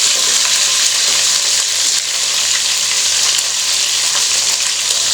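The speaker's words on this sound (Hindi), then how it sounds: "इस चिकन का हमने ब्राउन कलर लाना है, इसको हमने फ्राई करना है अच्छी तरह।" Chicken pieces browning in hot oil in a pan for Afghani Kabuli pulao, a bright continuous sizzle and crackle that stays steady and close throughout.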